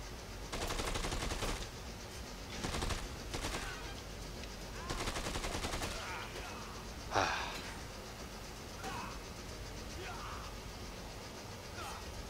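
A merc rifle firing in Dead Rising 2: rapid automatic bursts in the first half, then a steady game background with a few brief vocal sounds.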